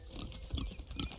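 Free-ranging pigs in a Mediterranean food forest grunt and snuffle in short, irregular bursts, faint and somewhat distant, with no talk.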